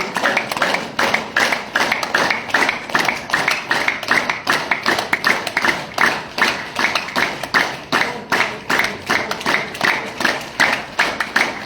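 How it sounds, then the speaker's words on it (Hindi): Hands clap vigorously in a fast, steady rhythm throughout a yoga session, many sharp claps per second sounding close and loud with no talk. "जम के ताली"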